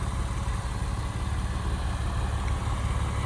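Steady low rumble of a 1999 Porsche 911 Carrera Cabriolet flat-six idling after a cold start, even and continuous with a fine pulsing texture, close by and heard alone.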